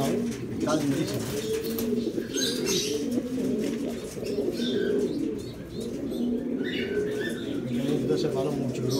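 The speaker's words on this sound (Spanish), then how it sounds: "Mira qué belleza el palomo ese." A red Büchi pigeon coos in low, rolling repeated phrases close by, with other birds chirping and cooing around it and a steady busy background throughout.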